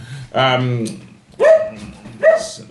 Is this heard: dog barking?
yes